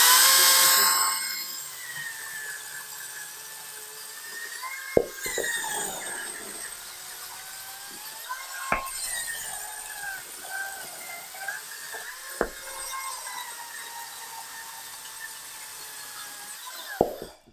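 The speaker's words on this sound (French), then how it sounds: "la présentation de cette tronçonneuse" A high, whining Makita battery chainsaw drone runs steadily with several sharp bursts of cutting as it bites into wood, heard up close with no talking.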